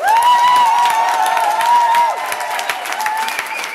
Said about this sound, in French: Je pense que ça mérite encore un tonnerre d'applaudissements.